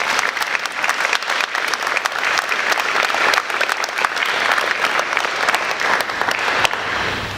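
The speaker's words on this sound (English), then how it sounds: "Let's give everybody a big round of applause." Sustained, steady applause fills a school district board meeting as the audience honors high school student art award winners, a dense wash of clapping throughout with no talk over it.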